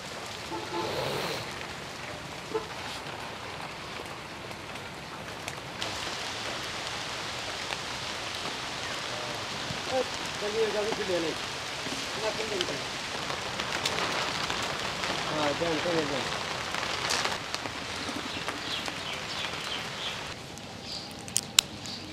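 Rain patters steadily on a tent put up as shelter during stormy weather at an iftar gathering for madrasa students, a continuous close hiss with voices talking now and then.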